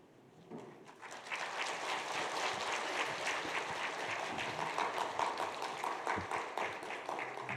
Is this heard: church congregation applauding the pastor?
yes